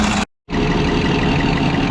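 A forage harvester with a corn head, damaged after hitting a tree, runs loud and close while its shear bar is adjusted. The heavy engine drone drops out for a moment, then returns with a rapid rhythmic knocking.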